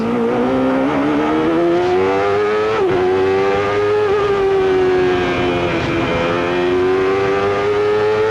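A 1993 CART IndyCar engine at the Toyota Grand Prix of Monterrey, heard from on board as the car runs hard through the gears, its loud, sustained high-revving tone rising and dipping with each shift, with no talking.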